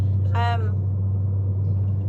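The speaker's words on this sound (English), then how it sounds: "Peter has a boy racer exhaust on the car and it sounds absolutely horrific" A car fitted with a loud boy racer exhaust gives a steady low rumbling drone from inside the cabin, with a short burst of voice near the start.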